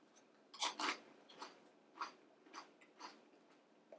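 Ips chips crunch between the teeth in a run of about eight crisp, close bites, quick at first and then evenly spaced, over an otherwise quiet background.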